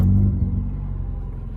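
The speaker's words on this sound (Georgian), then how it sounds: "დავქოქოთ ავტომობილი." A Mitsubishi Pajero iO engine rumbles into life, a short low-pitched start that settles quickly into a steady, close idle.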